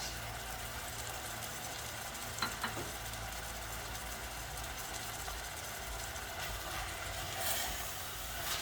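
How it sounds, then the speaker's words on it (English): Continuous low sizzling and crackling of mince frying in a pan without oil for samosa filling, fairly faint and steady, with a low hum underneath. "You can hear that sizzle now, the water is dried up, no oil, perfect color."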